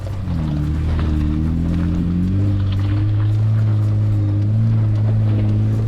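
A Jeep engine drones steadily as it climbs a steep hill in second gear, 4 low, in Last Chance Canyon, a loud low hum that rises slightly in pitch and then holds, with wind rushing over it.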